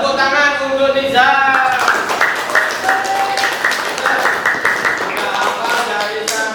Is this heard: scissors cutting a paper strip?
no